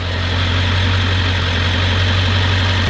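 A worn, clapped-out 7.3L engine idles close by with a constant low, even rumble and steady vibration, no talking.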